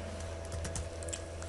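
Keystrokes on a computer keyboard while a topic is typed into a presentation program's search field, a steady run of soft clicks over a constant low electrical hum.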